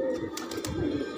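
Black-winged white pigeons cooing close by, a soft low rolling coo rising and falling over light background noise, with no voices.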